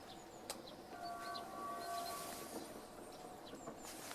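A distant approaching train on Polish railway line LK 139 rumbles faintly, with a steady hum, brief tonal whine and a few clanks, while birds chirp now and then in the background.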